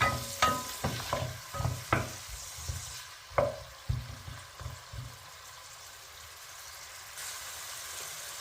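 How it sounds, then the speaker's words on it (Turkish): Chicken sizzles in butter in a pan as it is stirred, with a series of scraping stirs in the first half, then a quieter steady fry. "Tavuklarımızı şöyle bir karıştıralım."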